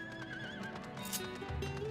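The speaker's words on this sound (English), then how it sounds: "Come, fire horse." A fire horse mount in Final Fantasy XIV gives a short, clear neigh-like whinny over steady game music, with faint hoof clip-clops beneath.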